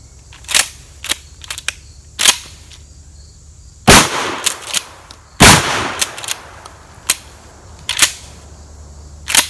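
Several loud, sharp blasts from a Mossberg Maverick 88 pump shotgun fired outdoors at a tree, with two especially heavy booms mid-sequence among lighter cracks and clicks, each shot ringing briefly before fading.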